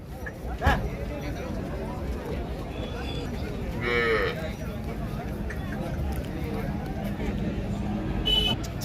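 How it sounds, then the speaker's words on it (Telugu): Cattle moo at the Pebbair cow market in Telangana, with several heavy-sized cows calling over a steady crowd babble; one drawn-out moo stands out midway amid the market din, and people talk throughout. "మీరు చూస్తున్నది పెబ్బేరావుల సంత"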